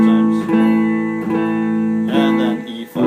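An electric guitar strums three-note open power chords E5, A5 and D5 in repeated, evenly spaced strokes, with sustained, thick, distorted tone and brief pick attacks at each chord change.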